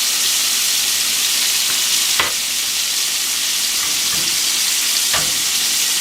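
Food sizzles steadily in hot oil in a pan, a constant bright crackling hiss with a few sharper pops scattered through, and no voices.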